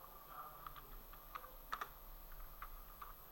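Faint keystrokes sound on a computer keyboard as a few scattered light clicks come in short bursts over a quiet background hiss, with no voices.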